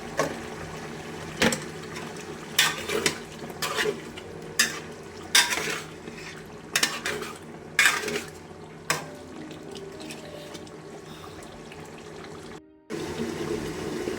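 Beef for rezala is stirred in a cooking pot after salt goes in, with close metallic scrapes and clinks coming in irregular strokes over a steady frying sizzle, then a louder sizzle near the end, with no talk.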